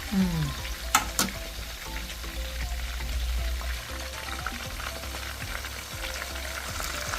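Chicken pieces laid over curry leaves frying in hot oil, a dense crackling sizzle throughout with a couple of sharp clatters early on and low rumbling beneath, close by, no speech.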